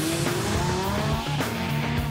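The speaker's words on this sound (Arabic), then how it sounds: "وهلا السيارة رح تبرم مع نفسها وتعمل سبين ساعتها" A sports car spins and drifts on a track, its engine droning steadily with rising and falling pitch while tires squeal continuously close by, loud throughout.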